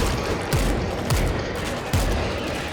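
Revolver gunfire in the zombie shooter World War Z: three sharp, heavy shots spaced apart over a dense, constant din of game noise and distant firing.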